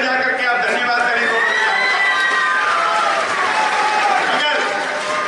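A large audience at a Hindi political gathering breaks into loud, sustained applause with cheering and whistles, filling the whole stretch without a break.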